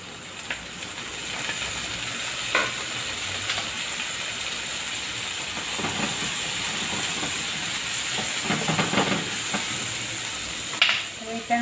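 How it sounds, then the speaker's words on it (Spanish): Soy sauce splashed into a hot pan of shredded chicken, producing a steady sizzling hiss with scattered crackles and stirring clatter, fairly close and continuous throughout. "Vamos a echarle un chorrito de salsa de soya."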